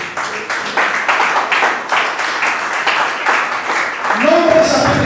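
Church congregation applauding in praise, a dense run of rhythmic clapping with voices mixed in, loud and steady for several seconds before a sung or spoken voice rises at the end.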